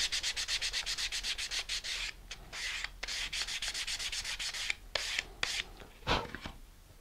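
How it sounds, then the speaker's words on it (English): Sanding the legs of a Star Lift Mega Lander model rocket by hand, a quick run of rhythmic rubbing strokes, close and steady, with short pauses and a few louder single strokes. "just sand them down like I'm doing here"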